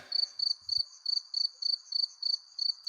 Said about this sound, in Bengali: শেয়াল ও ঝিঝি পোকার ডাক বাড়তে থাকে